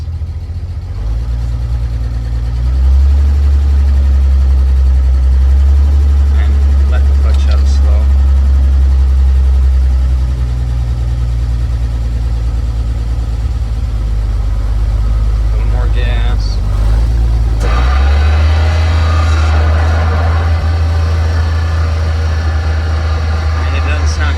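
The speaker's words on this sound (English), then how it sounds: "I'm gonna give it a little bit of gas." A 1950 Chevrolet 4400 dump truck engine runs with a deep low rumble, throttle blipped so it swells and settles a few times, close and steady, with someone talking over it.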